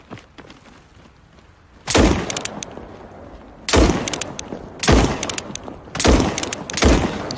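Long barrel revolver firing in SCP 5k, five loud single shots spaced about a second or more apart, each a sharp blast with a short decaying tail over faint background.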